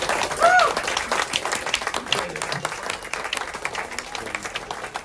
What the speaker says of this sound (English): Give yourselves a round of applause for coming out to live comedy.